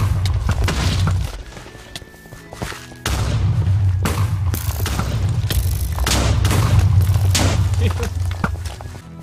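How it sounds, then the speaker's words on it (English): Repeated Minecraft explosions in game audio: heavy booms and crackling blasts roll in one after another over a continuous low rumble, loud and close, with voices talking over them. "I hear explosions now."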